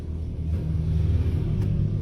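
A car engine rumbles low and steady as the driver shifts into third gear, a quiet continuous hum close by with no voices.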